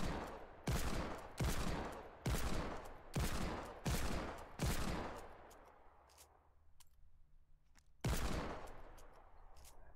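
Desert Eagle pistol fired at targets in Fortnite: a run of six loud, evenly spaced shots, each with a sharp crack and short ringing tail, then a pause and one more shot near the end.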